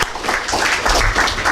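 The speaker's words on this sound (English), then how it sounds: "Can we give ourselves a round of applause?" An audience breaks into steady, dense applause at an integrity and ethics dialogue event, many hands clapping together in a continuous close wash of sound.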